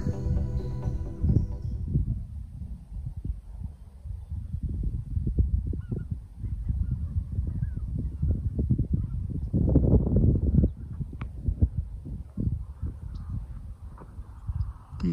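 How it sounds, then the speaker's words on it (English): Geese honk repeatedly at a moderate distance on a calm evening at an airfield campsite in Montague, their calls loud and overlapping against low outdoor rumble, with no talking. "Geese."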